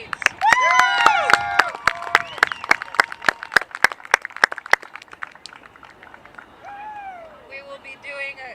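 A crowd claps and cheers loudly, with sharp hand claps and whoops at first, then the applause thins out and fades toward the end.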